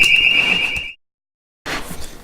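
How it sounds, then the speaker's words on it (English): A fire alarm sounds as one steady, piercing high-pitched tone lasting just under a second, then cuts off abruptly into silence before faint room noise returns. "That was the fire alarm going off."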